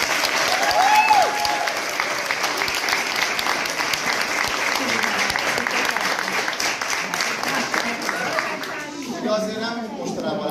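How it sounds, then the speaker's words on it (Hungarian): An audience applauds at the closing evening of a Hungarian folk dance camp, a loud, dense wash of clapping and crowd noise throughout, with a voice and chatter rising near the end. "tapsot."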